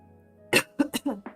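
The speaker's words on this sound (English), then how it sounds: "I apologise for my coughing." A quick series of five harsh coughs bursts out close to the microphone, the first the loudest, after a moment of quiet room tone.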